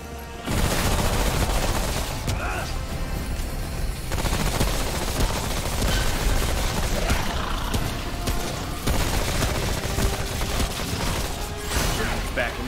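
A laser gun loaded with fire bullets shoots in the video game Remnant From the Ashes, heard as rapid, dense bursts of loud gunfire that continue almost without pause, mixed with crashes and other combat noise.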